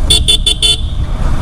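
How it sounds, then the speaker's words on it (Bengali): A Yamaha R15 motorcycle's double horn toots four quick times in a row over a steady rumble of traffic and engine noise. "ডাবল হর্নের কারণে কিন্তু সাউন্ডটা অনেক জোস"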